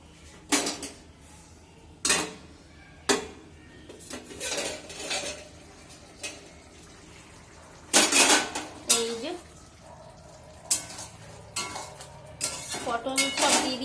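Dishes and utensils being handled, with irregular clattering of pots, plates and cutlery, loud clanks at intervals over a quieter background, faint cooking sizzle and a voice now and then.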